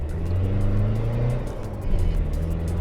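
Mitsubishi Delica L300 van accelerating hard through the gears on 14 PSI turbo boost, a loud, steady engine drone with a brief dip at a gear change before the pull resumes, heard from inside with no talking.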